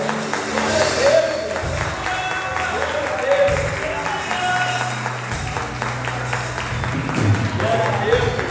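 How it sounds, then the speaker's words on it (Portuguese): A church congregation applauds during a worship service, with steady crowd clapping under a preacher's voice and shouted praise that rises and falls throughout. "Aplauda o Senhor."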